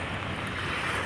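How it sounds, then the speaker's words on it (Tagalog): A steady, roaring wash of surf and wind at Manila Bay's Dolomite Beach fills the whole moment, loud and unbroken, with no voices. "ganito, lumakas ang alon"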